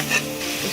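Spice masala of kabab, chaat and garam masala with salt is sautéed and stirred in a pan, giving a brief close hiss and scrape.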